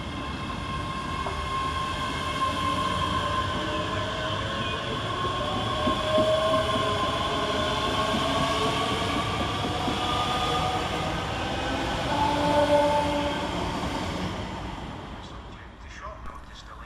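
A pair of Scotrail class 385 electric trains departing Motherwell station, a steady rumble and whine with rail clatter that swells and fades as they pull away, a tonal hum running throughout.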